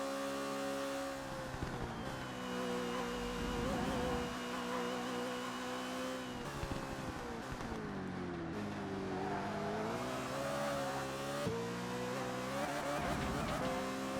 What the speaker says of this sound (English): stop wheel spinning, get a move on